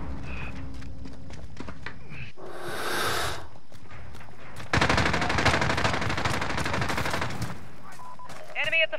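Gunfire from an SKS rifle in a team deathmatch video game, with a loud sustained burst of rapid shots after a brief earlier volley, followed by fainter mechanical clicks.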